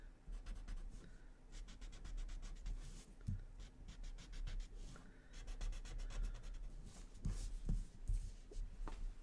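Graphite pencil shading loosely on paper for a Zentangle drawing, soft rapid back-and-forth scratching strokes, close and quiet, continuing in steady runs.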